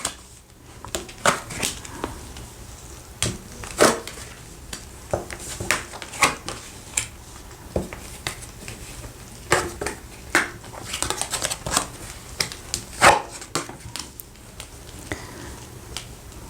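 Tarot cards are drawn and handled on a table: soft slaps, flicks and shuffling rustles at an irregular pace, close by and fairly quiet, with no talking.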